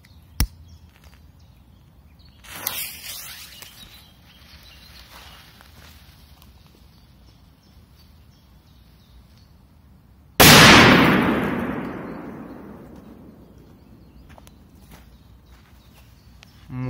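A Smoke Scream firecracker bursts with one loud sharp crack after several seconds of quiet shuffling and a soft earlier pop, its blast decaying over a few seconds.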